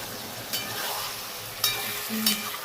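Eggplant cooking in a pan for a Bengali fish chorchori gives a soft, steady sizzle after water is added. A few sharp clinks of a spatula stand out above the low bubbling hiss.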